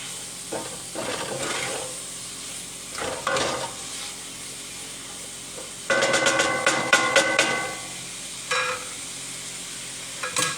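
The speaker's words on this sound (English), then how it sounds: "And I'm going to stir it." Chicken in curry being stirred in a pan, with scraping utensil strokes over a steady sizzle and a burst of rapid clattering stirs midway. No talk.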